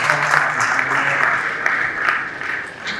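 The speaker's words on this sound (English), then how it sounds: "Can we give him a round of applause?" An audience at a summit event claps for the Oyo State governor's representative, a dense, fairly loud applause with some voices mixed in.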